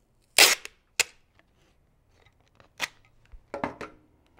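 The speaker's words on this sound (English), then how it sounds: "So I'm just going to take a piece of packing tape" Packing tape ripped off the roll for laminating a paper bookmark craft: a sharp, loud tearing burst, a second shorter rip, then several quieter crackling pulls spaced out, close by with no talking.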